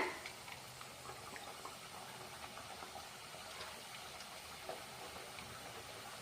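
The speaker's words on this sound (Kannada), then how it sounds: "ಲೋ ಫ್ಲೇಮ್ನಲ್ಲಿ ಇಟ್ಟು ಫ್ರೈ ಮಾಡಬೇಕು" Spicy biscuit dough fries in hot oil over a low flame, giving a faint, continuous bubbling sizzle with small pops scattered throughout and no talking.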